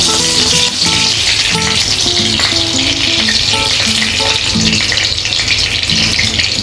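Ghee heats in a kadhai with a steady, close sizzling hiss that runs unbroken for the whole stretch, with faint tonal sounds in the background.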